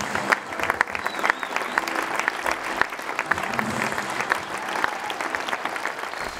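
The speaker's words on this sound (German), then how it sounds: "auf dem ersten Platz mit Ihrem großen Applaus Lisuscha Kostyuk" An audience at an open-stage songwriting event in Hamburg applauds the first-place winner with steady, dense clapping throughout, a few scattered cheers rising over it.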